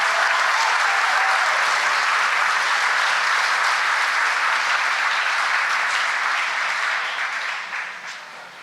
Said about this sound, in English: If you'll all join me in giving a big round of applause to all the members of the Stetson Law Review.